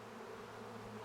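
A swarm of roughly 20,000 honeybees, partly held by hand, buzzes in a close, steady drone for a short moment.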